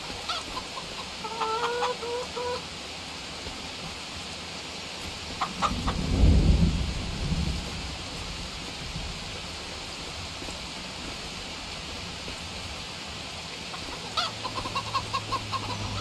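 Chickens cluck in the farm video game Farming Simulator 25, with brief clucks early and again near the end over a steady ambient bed, and a low rumble in the middle.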